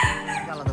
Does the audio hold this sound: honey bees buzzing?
no